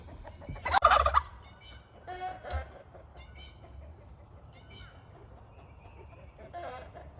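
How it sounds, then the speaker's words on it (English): A turkey gobbles nearby in a loud, rattling burst, followed by softer clucks and gobbling calls from the flock with quiet stretches in between. "you're the one doing the most gobbling right now"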